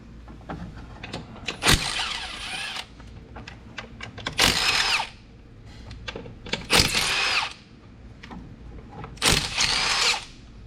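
A power drill whirs in four separate bursts, backing bolts out of a case cover, with clicks and metallic handling between the bursts.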